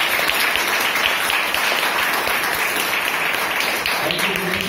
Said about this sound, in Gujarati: આપણે બધા પ્રભુનો અવકાર મોટેથી તાળી પાડીને કરીશું